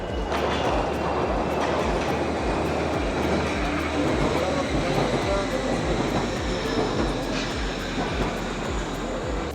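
A Wuppertal suspension railway train arrives with a steady, loud rumbling roar that fills the whole stretch, heard outdoors in a city square with faint talk beneath.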